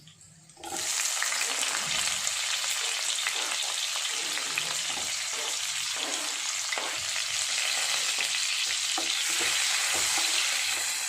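Onions dropped into a hot pan start frying with a sudden burst of sizzle, then a steady dense crackling hiss with faint stirring clicks, close and continuous without speech.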